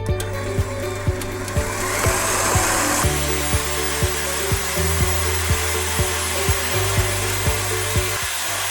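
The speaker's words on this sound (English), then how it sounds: "Actually, I needed my hair dryer because the room temperature is a little bit cold" A hair dryer blows on a bowl of Italian buttercream in a cool room. It makes a steady, close airy whoosh with a regular series of light ticks underneath, and no one speaks.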